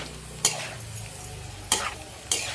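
Paneer is being sautéed in oil with chili powder and salt, giving a soft background sizzle broken by three sharp utensil scrapes against the pan, heard close and without speech.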